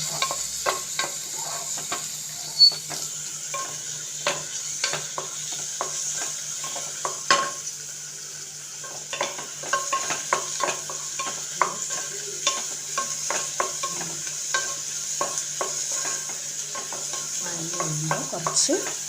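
Ingredients sautéing in a pan on a small burner: a steady low sizzle runs under repeated scraping and tapping strokes of a stirring utensil, close and fairly even.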